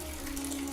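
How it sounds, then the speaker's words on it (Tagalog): Water runs steadily from a bathroom tap in a continuous faint hiss, alone with no voices. "biglang nakarinig kami ng may nagbukas ng tubig sa CR"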